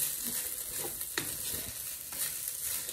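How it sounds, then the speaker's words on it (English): Quiet, steady sizzling of rice frying in a pan over low heat, with a few soft scraping stirs breaking through the hiss. "So we're frying it on a low heat for a few minutes."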